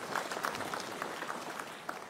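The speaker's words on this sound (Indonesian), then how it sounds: "Tepuk tangan untuk beliau." An audience at an Aceh inauguration ceremony claps for the Wali Nanggroe Aceh, with fairly light applause and some distinct individual claps standing out.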